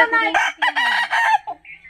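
A rooster crows loudly and close by in one drawn-out, strained cock-a-doodle-doo, then gives a short cluck-like call at the end.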